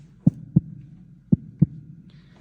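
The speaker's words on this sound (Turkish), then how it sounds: "Geldi mi kalp atışı? Geliyor." A heartbeat sound effect thumps in low, muffled double beats, two pairs of pulses followed by a single beat, clear against a faint hum.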